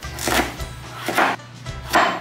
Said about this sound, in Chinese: 芋头先来把它切小